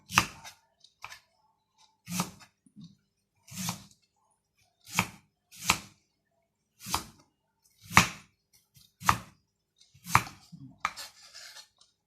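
A knife chops raw bamboo shoots thinly on a board, about a dozen crisp separate cuts at uneven intervals, close and fairly quiet, with no talking.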